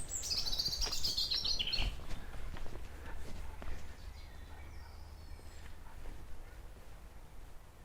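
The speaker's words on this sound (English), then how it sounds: "Got the bird singing up there." Songbird chirping and singing in the countryside near Lacock and Reybridge, high bright calls clearest early on and fading after about two seconds, over outdoor ambience and scattered footsteps of a walk.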